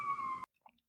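A police siren wails in the city background behind a remote conversation from a hospital, a brief steady tone that cuts off abruptly, followed by a few faint scattered sounds.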